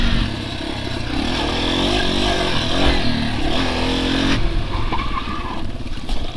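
Dual sport motorcycle engine droning steadily and close while riding, a loud continuous mid-pitched roar with slight shifts in revs and wind noise, no talk.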